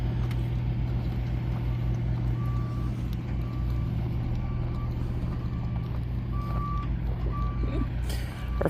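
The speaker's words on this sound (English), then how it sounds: "There's Chris on the backhoe" Backhoe reversing beeps sound repeatedly at a moderate distance, thin evenly spaced tones over a loud rumbling diesel engine, with occasional clanks and no clear speech.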